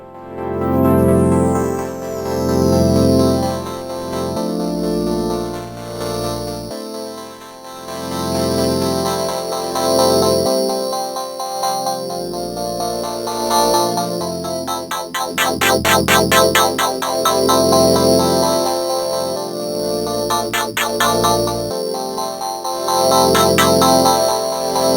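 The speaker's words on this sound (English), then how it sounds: "Let's see what we can get out of this distortion. I am going to come over here to select and go to crush." A loud Cherry Audio DreamSynth synthesizer plugin plays a looping pattern of chords and bass notes, its tone gritty and crunchy from heavy bitcrush distortion.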